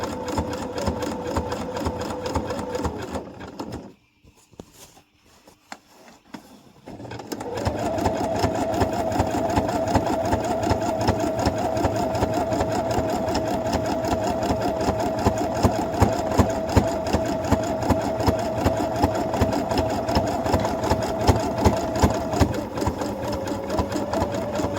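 A sewing machine runs a zigzag stitch on a cushion cover, whirring steadily up close. It stops briefly early on, then keeps stitching continuously to the end.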